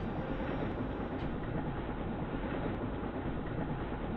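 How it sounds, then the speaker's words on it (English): Steady, loud rumble of a train rolling along tracks in a spooky free Steam horror game, a continuous dense roar with faint rhythmic clatter and no voices. "And now I'm back on the train again."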